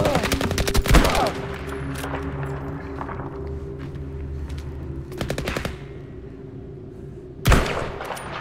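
Gunfire in the shooter game Battlefield V: rapid automatic bursts near the start, another burst past the middle and a sharp loud shot near the end, over a steady low background rumble, with no speech.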